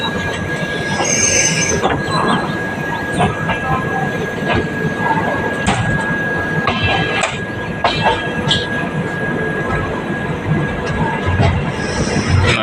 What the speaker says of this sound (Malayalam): ട്രെയിൻ വീണ്ടും സ്റ്റോപ്പ് ചെയ്തല്ലോ